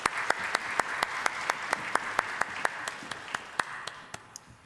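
A church congregation at a Sunday service claps together in an even, rhythmic beat. The sharp, regular claps are fairly soft and thin out toward the end.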